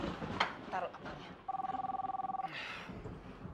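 An indoor telephone rings in one long, rapidly pulsing electronic trill lasting about a second, after brief talk and household noise, with a voice speaking faintly afterward.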